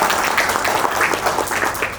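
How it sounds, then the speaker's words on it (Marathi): An audience at a retirement function claps together in a dense, steady round of applause that stays loud from start to finish. "जरा जोरदार टाळ्या जावई बाबांच्या"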